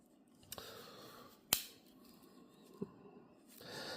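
Swiss Army knife scissors snip once, sharply and close, with a few fainter clicks and handling noises around it in a quiet room.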